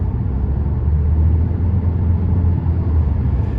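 Steady low road rumble and engine drone inside a 2017 Nissan Rogue S cruising along a road, continuous and fairly loud with no talking.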